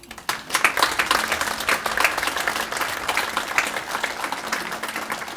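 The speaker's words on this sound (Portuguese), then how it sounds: "mais uma vez, palmas para ele" An audience claps for the mayor, an architect, at the inauguration of a parish complex in Rio Tinto, Esposende. The sustained clapping begins abruptly, peaks early and then continues evenly at a lively level.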